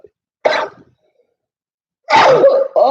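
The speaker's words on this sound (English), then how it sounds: "I got to sneeze, excuse me." A person sneezes in a close, loud burst, then a second louder sneeze or throat-clearing follows after a pause of silence.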